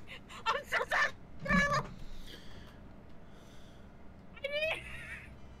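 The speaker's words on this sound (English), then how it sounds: "I can hit the cat!" In the video game Dragon Farm, a cat meows several times in short bursts, fairly faint and interspersed with quiet gaps, with a player's voice nearby.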